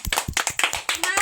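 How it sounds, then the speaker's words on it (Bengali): Hands clap in a quick, uneven burst of about a dozen sharp claps at a home room inauguration, with voices talking over them. "আমাদের হাততালি হাততালি হাততালি হাততালি"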